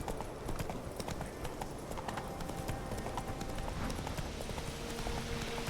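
Horse hooves clip-clop steadily in a video game, a continuous rhythmic trot under a dense game soundscape with faint talk in the background.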